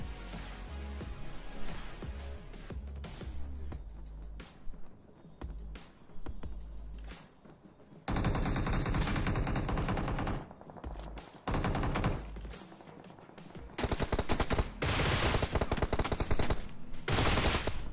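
Rapid gunfire from the mobile battle royale game BGMI, with loud bursts of automatic fire and single shots coming in clusters, heavier and more continuous in the second half, and no speech.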